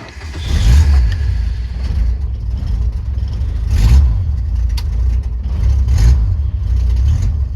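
Jeep YJ engine running on a rough idle, with low steady rumble and periodic swells as it is revved, close and loud throughout with no talk.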